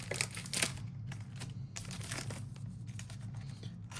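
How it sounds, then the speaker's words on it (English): Foil wrapper of a trading card rack pack being torn and crinkled open by hand, a steady close crackle with sharper rips, no voices. "Let's rip into this rack pack and cut her open here"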